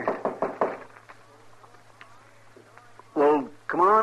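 Several quick knocks rap on a wooden door, close and sharp, followed by a quiet pause and then a voice speaking.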